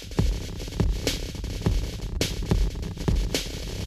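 Sonicware Texture Lab running as a granular effects processor with its reverb off, giving a throbbing, pulsing hum with rhythmic low thumps and bursts of hiss, no voice.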